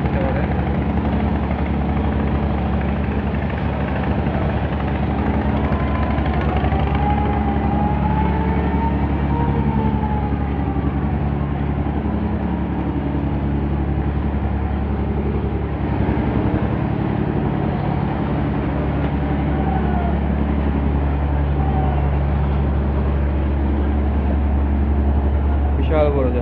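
On board the large passenger launch ship Mayuri 1, a loud, steady engine drone and deep hull rumble fill the whole stretch without letting up, with faint voices beneath.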